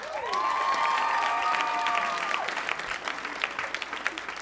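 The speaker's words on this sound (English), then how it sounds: "Clap if you from somewhere else." A comedy club audience at a stand-up show claps together, a dense, steady burst that starts full and thins out over a few seconds, with some cheering and whoops riding on top.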